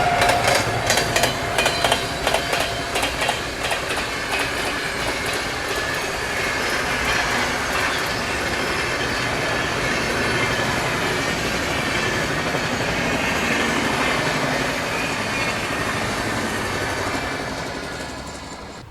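A passenger train rolls past on a parallel track on a dedicated freight corridor, heard from onboard another train: a steady loud roar with rapid rhythmic clickety-clack of wheels over rail joints near the start, fading slightly toward the end.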